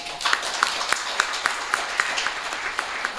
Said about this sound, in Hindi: तो उसके लिए जोरदार तालियां